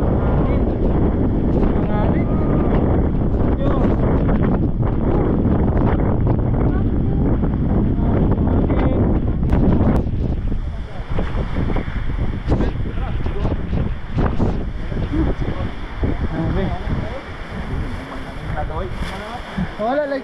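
Strong wind buffets the microphone among the boulders near the summit of Mount Apo, roaring continuously and loudly, while people talk now and then.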